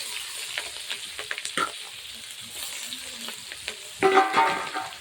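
Chicken frying in a pan hisses quietly as chopped onion goes in, with soft scraping and stirring clatter and a sharper surge of sizzle near the end, no voices.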